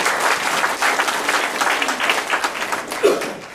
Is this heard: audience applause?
yes